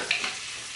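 Bacon with rosemary sizzling in a frying pan, a steady close crackle with a brief brighter spatter near the start, no talking.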